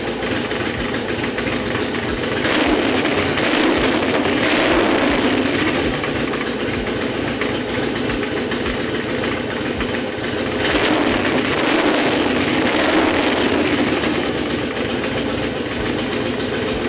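A 1981 Yamaha XV920 café racer motorcycle engine with enlarged carburetor jets, running steadily after synchronization, a continuous low idle rumble with slight swells in level throughout.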